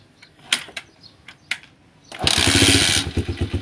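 A cold motorcycle with a CDI being swapped from 6-pin to 4-pin is kicked a few times with sharp clunks, then catches and roars into a loud, close, sputtering idle that settles into a steady putter.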